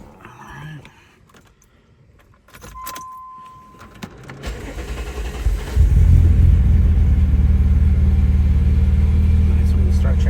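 A 1995 Mazda MX-6 with a failing alternator cranks briefly after keys jingle and a short chime, then catches and settles into a loud, steady close-up idle.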